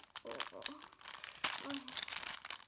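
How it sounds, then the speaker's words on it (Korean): Plastic packaging around a photo keychain crinkles and tears in quick, close, irregular bursts, with a sharp rip in the middle, while someone talks over it. "두 개를 넣고 더 자세히 보여드리려면 뜯어볼게요"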